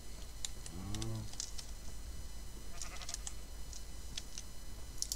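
A Minecraft Pixelmon sheep gives a short bleat, followed by further faint bleats, over a steady low hum and scattered clicks of keyboard typing.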